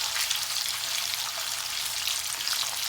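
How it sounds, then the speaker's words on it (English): Beef sausages frying in oil in a pan, a steady, dense crackling sizzle heard close up and continuous, with no voices over it. "any oil you want to put in to cook your sausages in"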